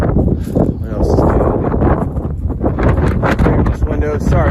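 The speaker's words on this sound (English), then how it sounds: "sorry it is very windy out today" Strong outdoor wind buffets the microphone beside a 2022 Forest River Rockwood Ultra Lite 2442BS travel trailer, a loud, steady roar and rumble that continues throughout.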